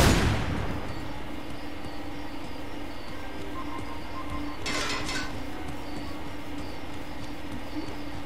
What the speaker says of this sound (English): Someone's shooting rockets at me, dang it.